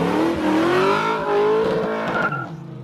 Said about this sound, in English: You gonna do a burnout first?